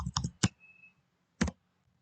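A few separate key clicks on a computer keyboard while typing code, close and fairly quiet, with two quick taps near the start and one more after a short pause.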